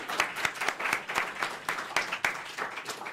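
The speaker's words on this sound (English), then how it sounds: "round of applause for ourselves" Closing applause from a technology conference audience at the end of the Qubes OS Summit 2024, steady, moderately distant clapping with sharp individual claps standing out over a continuous wash.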